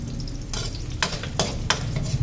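Onions and tomatoes sautéing in oil in a pan, a close, steady sizzle broken by a few sharp bursts of stirring and scraping, with no talk.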